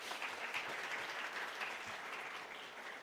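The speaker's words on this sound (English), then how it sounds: "So clap for yourself, okay?" Faint applause from an audience at the Smart India Hackathon 2025, a short, even patter of clapping lasting about three seconds, distant and steady.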